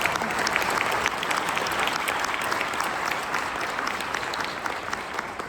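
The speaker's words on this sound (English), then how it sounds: "let's give a big round of applause to our speakers" Conference audience applauding speakers at a knowledge management event, a dense, steady wash of clapping hands that stays loud throughout.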